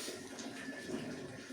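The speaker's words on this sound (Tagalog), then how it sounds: "Sarado mo yung gripo lakas." Water running hard from a faucet, giving a steady rushing hiss throughout with no breaks.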